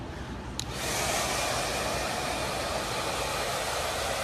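An Arrojo twin turbo hair dryer power-dries hair in a salon haircut: a steady, loud whooshing roar starts after a brief click and holds unbroken to the end, with no talking.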